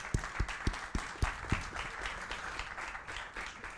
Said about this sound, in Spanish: Un aplauso también para Claudio.